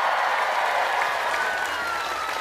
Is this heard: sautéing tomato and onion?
no